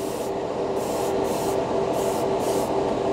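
A steady hiss of an airbrush spraying Vallejo paint runs continuously, with a faint pulsing in the high hiss and a constant motor hum underneath, close and fairly loud.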